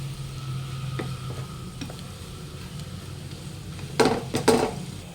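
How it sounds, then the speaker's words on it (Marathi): Salt being mixed into a potato filling for bread pakoda in a pot, with a low steady background hum and a few spoon clinks and scrapes near the end, no talking. "चवीनुसार मीठ सगळं मिक्स करून घेऊया"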